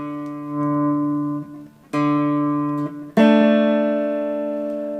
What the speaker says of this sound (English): I played the open string first, and then I played all 3 strings. All downstrokes.